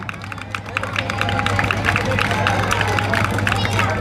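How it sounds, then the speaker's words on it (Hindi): Audience applause at a Ramlila stage performance in Dakpathar, heard as a dense, sustained wash of many hands clapping with crowd murmur, steady and loud throughout, with voices mixed in. "आप लोग तालियां बजाते रहे"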